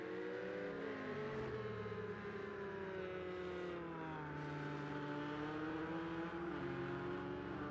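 A GT3 race car in a racing game at Brno howls steadily, its engine pitch sweeping up and down through gear changes as it accelerates and brakes, continuous and fairly close with no talk.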